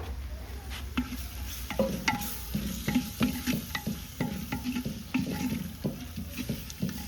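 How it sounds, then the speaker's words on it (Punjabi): Soft sizzling of peas frying in tempering in a handi over a chulha fire, with repeated scraping and clinking as a spoon stirs, moderately quiet and close, no voices. "ਤੜਕਾ ਆਪਣਾ ਭੁੱਜ ਗਿਆ ਸੀ ਤੇ ਮਟਰ ਆਪਣੇ ਹੁਣ ਥੋੜੇ ਜਿਹਾ ਸੇਕ ਲਵਾ ਰਹੇ ਆ"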